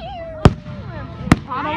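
A bottle rocket firework sound, made by a voice imitating it, gives a thin falling whistle and two sharp cracks about a second apart, loud and close, with voices nearby.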